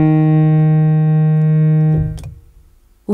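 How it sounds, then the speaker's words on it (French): A pair of sustained pitched reference tones for a singing test, the first note held long and steady, then a second, lower note following briefly before cutting off, clear and close with no voices. "la première note est plus aiguë et la deuxième note est plus grave"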